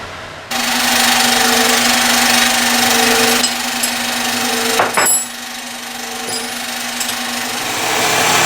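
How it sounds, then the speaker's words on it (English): A power drill runs steadily at close range with a constant motor whine, briefly bogging down midway as it bites into material, then continuing. "I'm going to drill a hole."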